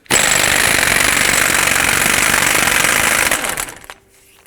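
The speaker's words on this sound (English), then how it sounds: "I'm going to remove my axle nut with a 34mm socket" Impact wrench spinning off the front axle nut of a 2011-2018 RAM 2500 with a 34mm socket, a loud continuous rattling hammer burst lasting over three seconds before winding down abruptly into near silence.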